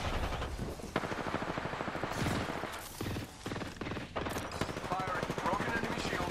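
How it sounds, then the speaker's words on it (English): Rapid automatic fire from Rampart's weapon in Apex Legends, a dense, steady stream of close shots with brief pauses, overlaid by game voice callouts. "Firing."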